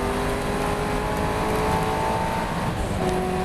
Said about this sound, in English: I'm building speed here, I'm full throttle.